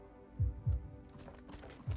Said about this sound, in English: What's that heartbeat?